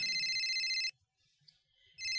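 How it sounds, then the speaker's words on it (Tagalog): A mobile phone ringtone rings loud and close, a bright electronic tone that stops for about a second and then starts again. "Saan ba yung nagre-ring na yon?"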